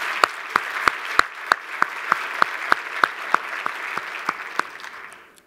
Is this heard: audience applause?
yes